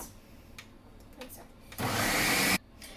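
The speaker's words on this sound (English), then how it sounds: "now I'm just going to blend it" An electric blender whirs loudly for under a second as it purees garlic, onion, jalapenos and salt, starting abruptly and cutting off sharply, set between quieter kitchen background noise.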